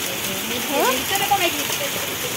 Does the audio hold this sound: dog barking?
no